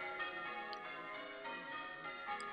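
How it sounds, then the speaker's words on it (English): Church bells rung by a team of bell ringers in a remembrance ringing, a dense wash of overlapping ringing tones sounding steadily throughout with no voices. "Linda Richardson enjoyed being one of the 1400 to learn the art of bell ringing"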